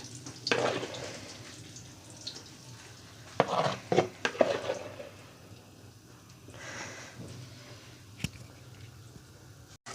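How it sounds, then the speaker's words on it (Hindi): Flour roasting in ghee in a kadhai gives soft sizzling and scraping stirs, with a few louder bursts of spoon movement against a quiet background. "ये मैदा और घी हमने डाला था कढ़ाई में। अब ज़रा मैदे को हमने थोड़ा सा भून लेना है।"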